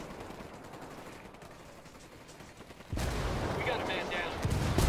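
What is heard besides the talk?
mortar fire in Ghost Recon Wildlands video game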